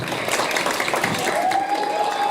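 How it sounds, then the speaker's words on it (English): Applause from an awards ceremony crowd continues as a dense, even patter of many hands clapping, with faint voices mixed in. "Keep those applause going."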